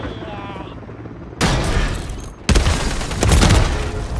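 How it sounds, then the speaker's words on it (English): Call of Duty MW3 match with an attack helicopter overhead and gunfire, heavy bursts and booming fusillades starting abruptly partway through, loud and dense, after a quieter opening with faint voices. "But you got an attack chopper?"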